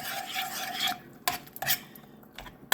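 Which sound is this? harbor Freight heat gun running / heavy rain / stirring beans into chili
stirring beans into chili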